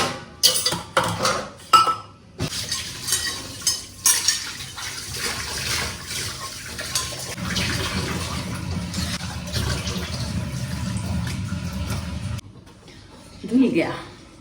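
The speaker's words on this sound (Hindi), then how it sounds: "बर्तन धो ही लेती हूँ।" Pots, pans and utensils being washed in a home kitchen, with clinks and clatters near the start, then running water splashing steadily, while someone talks over parts of it.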